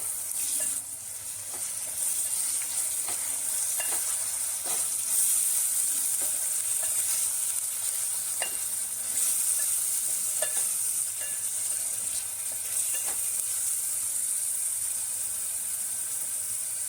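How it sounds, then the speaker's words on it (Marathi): Ground masala paste frying in oil for village-style black mutton, a constant bright sizzle with soft repeated stirring taps and scrapes, close and continuous, with no voice. "यात आता मी काल वाटण घालून घेते वाटण चांगलं तेलावर शिजवून घेऊ आपण"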